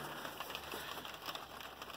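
Rain patters steadily onto a corrugated-sheet tomato shelter, a soft continuous hiss of drops with small irregular taps, fairly quiet and with no voices.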